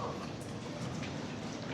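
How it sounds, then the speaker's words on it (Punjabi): Rain begins to fall, a soft, even hiss of drops that holds steady and close through a brief moment. "ਬਾਰਿਸ਼ ਵੀ ਯਾਰ ਹੋਣ ਲੱਗ ਗਈ ਹੈ"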